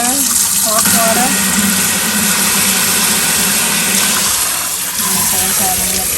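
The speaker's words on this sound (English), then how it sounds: "I'm going to turn off the heat and I'm going to drain it with hot water." Hot water running steadily from a kitchen tap to drain pho noodles, a continuous loud rushing gush that fills the whole stretch, with faint voices and kitchen clatter underneath.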